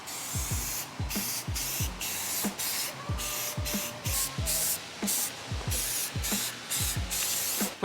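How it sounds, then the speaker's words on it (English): Self-etching primer sprayed from a can onto raw metal parts of a BMW E28 in short repeated hissing bursts with brief pauses between them, close and fairly loud. "Self-etching primer because we're painting on raw metal."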